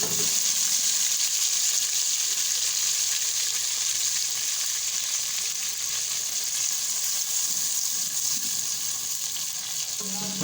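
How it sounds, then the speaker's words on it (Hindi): Ginger and garlic fry in a pan with a dense, continuous hiss of hot oil, loud and close and steady throughout, with no voices. "फिर इसमें अदरक लहसुन डाल के थोड़ा सा भूनेंगे।"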